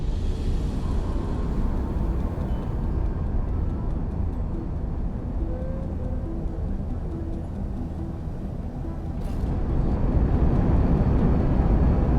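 Spaceship squadron lifting off in the X4 video game, a deep steady rumbling roar of engines that holds for the whole stretch and swells slightly louder near the end, with no talk.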